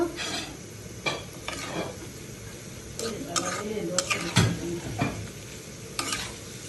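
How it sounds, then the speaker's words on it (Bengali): Onions fry in oil in a pan, stirred with repeated scrapes and clinks of a metal utensil against the pan over a constant sizzle, close and fairly loud. "ভালো করে পেঁয়াজটা ভেজে নিব।"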